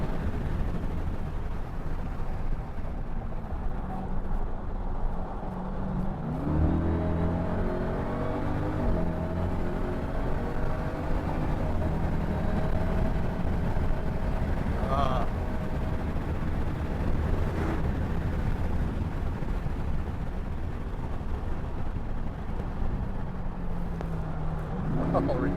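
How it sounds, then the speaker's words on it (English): A 710-horsepower 2021 Dodge Durango SRT Hellcat three-row SUV drives hard around a racetrack, its engine a continuous loud roar that rises and falls through shifts, while a person talks over it throughout. "Dodge Durango Hellcat, 710 horsepower, 3-row SUV. No business being on a racetrack"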